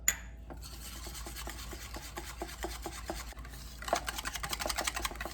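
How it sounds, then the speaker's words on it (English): Pumpkin and maple syrup are whisked together in a bowl, giving soft, rhythmic scraping strokes that quicken toward the end, with no talking. "the pumpkin, and the maple syrup, and just whisk those together well before we add them to the dry ingredients"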